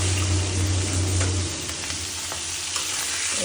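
Salted prawns fry in a slightly scorched wok with a steady, close crackling sizzle and light stirring clinks, a low hum fading out early.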